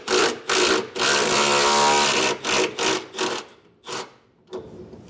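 A 13mm bolt is backed off a bracket under a 2023 Ford truck bed during a B&W gooseneck hitch install, heard as a run of loud, rapid power-tool bursts, one long buzzing spell, then shorter spurts fading out.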